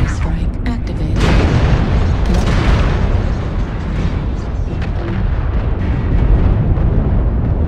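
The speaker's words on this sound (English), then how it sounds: "Artillery strike online. Artillery strike activated." Artillery strike explosions in a mech combat game: a continuous, loud rumble of heavy booms rolling over one another for several seconds, with a sharper blast near the start.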